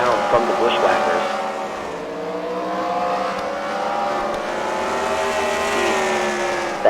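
Engines of race cars at a demolition racing fight night at the Freedom Factory roar steadily, a sustained revving drone with shifting pitch, carrying on continuously beneath an announcer's commentary.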